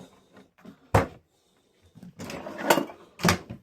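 Cabin drawers on a cruise ship sliding open and shut, several sharp wooden knocks and rattling slides in separate bursts, close and fairly loud with quiet gaps between.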